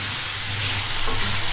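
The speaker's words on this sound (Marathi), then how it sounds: "ओके मशरूम आतां घालता" Mushrooms frying in hot oil in a pan for a mushroom curry, a steady close sizzle with soft crackling that runs unbroken and alone.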